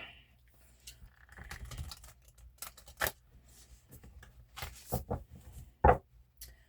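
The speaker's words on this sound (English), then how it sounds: "So let's get a good shuffle on these bad boys." Close, irregular riffling and snapping of playing cards being shuffled, in quick bursts separated by short pauses, with a few sharper slaps.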